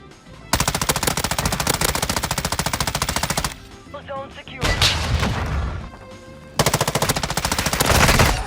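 Sustained automatic bursts from an M13B assault rifle in Warzone 2, loud and rapid, in three long strings of fire separated by a short gap holding a few scattered shots and clatter.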